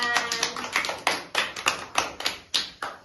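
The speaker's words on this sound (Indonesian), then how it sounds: "Tepuk tangan" Slow, deliberate hand claps in a classroom, about a dozen sharp separate claps in an uneven rhythm, close and moderately loud, with a ringing room echo after each.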